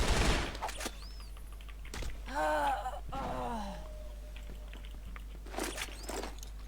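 Gunfire bursts in a shooter video game, a sharp volley at the start and further shots near the end, mixed with game voice callouts and effects, no live talking.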